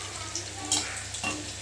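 Chicken pakora pieces coated with turmeric drop one by one into hot oil in a wok, a soft steady sizzle with brief sharper crackles as each piece goes in.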